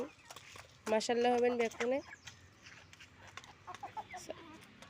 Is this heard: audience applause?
no